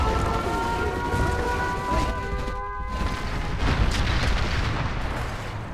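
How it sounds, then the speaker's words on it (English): Carpet bomb explosions from the Generals Evolution strategy game in a nuclear free-for-all match: a dense, continuous roar of booming blasts and rumbling impacts, loud and sustained throughout, with no speech. "That was a carpet bomb."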